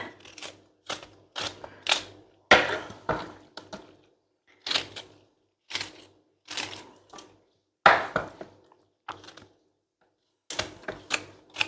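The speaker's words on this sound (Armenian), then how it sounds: "այս կաղամներն է կտրատեմ երեսը" A knife chops cabbage leaves being laid over rolled tolma layered with fried onion, giving crisp, rhythmic chops in quick clusters separated by short pauses, close and clear with no talking.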